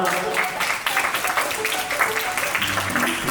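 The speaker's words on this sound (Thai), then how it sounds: "ขอเสียงปรบมือด้วยครับ" A crowd claps steadily for a few seconds at a school award for a good student, with a voice speaking over the applause.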